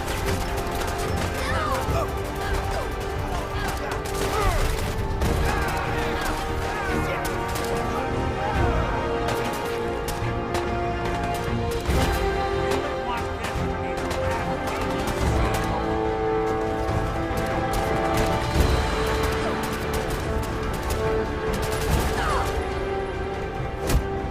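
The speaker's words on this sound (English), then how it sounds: "So, explosions, plasma fire, flames, all kind of carnage." A continuous Fallout 4 Far Harbor battle against a militia, with dense gunfire, plasma fire, explosions and crashing impacts rattling on loudly and steadily without letup.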